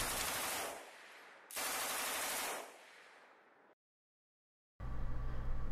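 MMG machine gun bursts in a sound effect, two long rattling volleys of rapid fire with fading tails, a short silence, then a further low burst.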